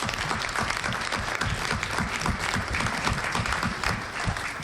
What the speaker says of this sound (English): I think we ought to give him a round of applause for being here